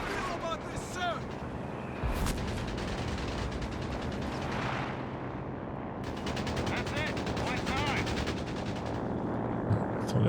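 Two pintle machine guns rattle in sustained bursts during a Company of Heroes 3 battle, with other gunfire and explosions mixed in, moderately distant, under a talking commentator's voice.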